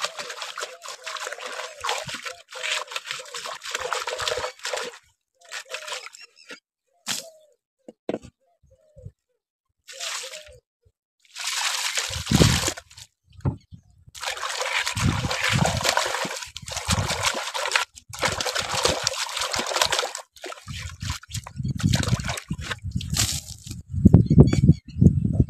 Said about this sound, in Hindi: हमें अब अच्छी तरह से साफ पानी से उसको धो लेते हैं